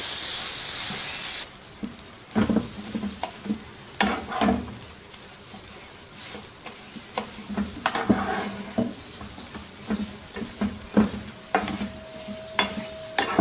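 Mashed potato stuffing cooks in a pan, with irregular close spatula scrapes and stirring knocks over a low background sizzle, and a brief loud hiss at the start.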